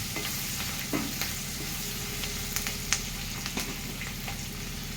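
Onions sizzle steadily in hot oil with a little turmeric for puffed rice upma, a continuous close crackle broken by a few sharp spatula scrapes and taps as the pan is stirred.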